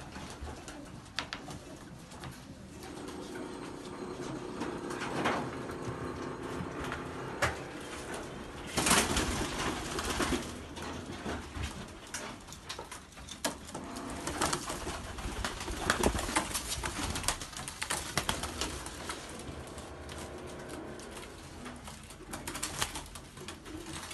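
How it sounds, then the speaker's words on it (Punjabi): Pigeons coo on a rooftop, repeated soft throaty calls rising and falling over a steady background hum, with occasional rustles and faint wing flutters, at moderate distance throughout. "ਤਾਂ ਬਹੁਤ ਅੱਛੇ ਕਬੂਤਰ ਨੇ।"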